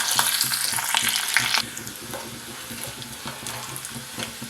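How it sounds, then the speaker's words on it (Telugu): Mustard seeds, cumin, dried red chilli pieces, green chilli and cashews fry in hot oil for a tempering, crackling loudly at first before settling into a softer sizzle with stirring clinks. "ఆవాలు, జీలకర్ర వేసి వేయించుకోవాలి."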